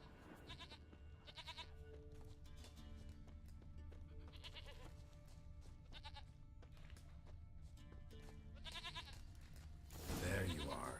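A goat bleating in the video game Witcher 3, its quiet, repeated bleats recurring throughout against a soft game backdrop, with a louder burst of sound near the end.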